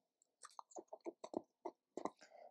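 Coconut-flavoured M&M's are bitten and chewed close to the ear: a quick string of crunchy bites and chews, a dozen or so distinct crackles, ending in softer munching, with no talk over it.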